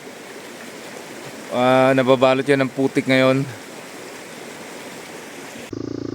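A clear river with steady broadband flowing-water noise carries on throughout, while someone speaks briefly over it near the middle.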